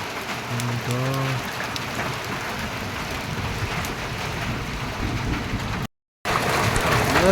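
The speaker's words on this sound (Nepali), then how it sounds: "गाइस पानी चाहिँ ठुलो आयो" Heavy rain pours down in a steady, dense roar, with a brief voice early on and a short dropout near the end.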